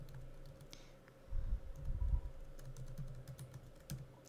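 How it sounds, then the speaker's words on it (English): Someone types on a computer keyboard, a run of soft, close key clicks with a few heavier thumps near the middle, quiet and without talk. "So type that into the search bar."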